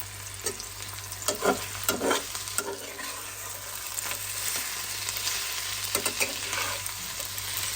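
Onions frying in oil in a pan on a home stove, with a steady close sizzle and a few scraping stirs of a spoon near the start, no voices.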